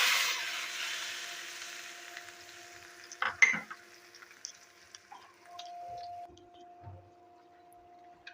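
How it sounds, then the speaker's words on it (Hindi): Whole cardamom, cloves and cumin seeds hitting hot oil for an egg curry tempering: a hissing sizzle that fades, then a few sharp clinks of a spoon against the pan. "और तड़का लगा देंगे।"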